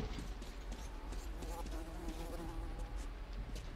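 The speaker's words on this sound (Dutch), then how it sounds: "Allemaal vliegen hier." Flies buzz in a steady, close drone throughout a scene in the video game Metro Exodus, their whirring wingbeats swelling and fading slightly without pause.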